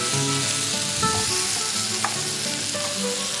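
Boiled and then fried potato pieces hit a hot pan, producing a loud, constant, close-up sizzle with a few faint clinks of stirring throughout.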